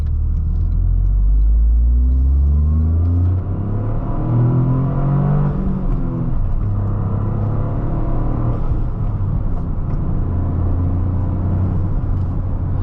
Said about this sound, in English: we hear a little bit of that charismatic 3-cylinder and a little bit of a turbo blow-off